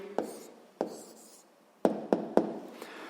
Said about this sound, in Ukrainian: Гаразд, записуємо тоді відповідь.